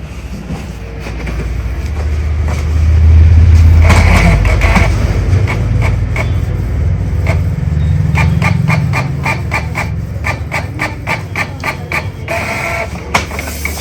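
A Canon Pixma G2012 inkjet printer runs a test page, with a steady mechanical motor whir and loud rumble, broken by a series of rapid clicking and ratcheting bursts as the paper feeds and the carriage moves.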